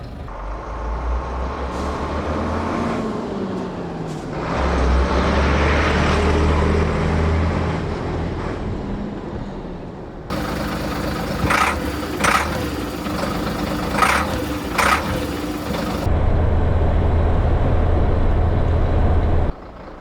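A Scania 93M truck engine runs with a low steady rumble that swells and shifts in load, with sharp hissing air bursts in the middle stretch, no voices.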